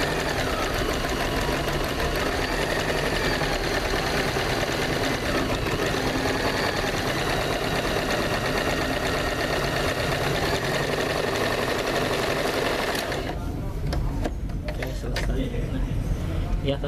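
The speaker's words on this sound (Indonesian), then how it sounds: "Sekarang kita buktikan kemampuan dari Janome CT2480LS ini dengan menjahit bahan kaos atau jersey." A Janome CT2480LX heavy duty sewing machine runs steadily while stitching jersey fabric, giving a continuous close motor whir for most of the clip before stopping near the end, with a voice speaking over it.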